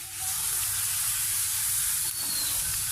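Bitter gourd frying in a pan with a little chili, a steady close hiss and sizzle that runs unbroken for about three seconds, with no talk.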